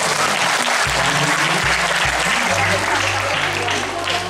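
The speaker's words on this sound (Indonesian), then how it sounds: "tepuk tangan yang meriah" Lively, loud applause from a school audience fills the room, a dense continuous clapping that stays steady throughout with faint crowd noise underneath.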